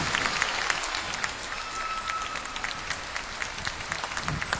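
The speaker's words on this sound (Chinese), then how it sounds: "再次的掌声送给这神仙眷侣庞青佟健。" A large crowd applauds figure skating pair champions Pang Qing and Tong Jian at a marriage proposal event, sustained loud clapping filling the hall with a faint tone under it.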